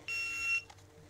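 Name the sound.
shot timer buzzer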